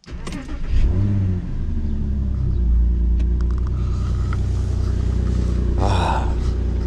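Porsche Cayenne engine starts with a brief sharp burst, then settles into a steady loud low rumble close by, a short rise near the end.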